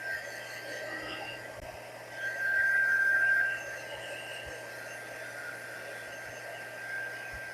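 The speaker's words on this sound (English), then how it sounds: "My dryer's working again." A hair dryer runs in a steady, airy whoosh with a faint high whine, growing briefly louder partway through before settling back to its even hum.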